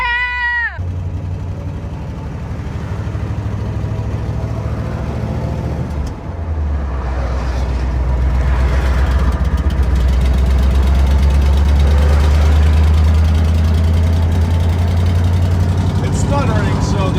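A 1966 Ford Mustang's engine runs with a loud, low rumble that builds and wavers unevenly, stuttering as it goes. A brief whining squeal comes at the start and people talk over it.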